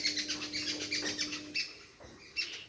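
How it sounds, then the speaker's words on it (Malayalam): Jungle babblers give scratchy chattering calls in short repeated bursts, moderately close, with a faint steady hum underneath for the first half. "കരിയിലയുടെ നിറമുള്ള കുറേ കിളികൾ അവിടെ ഇരുന്ന് അലയ്ക്കുക കേട്ടോ"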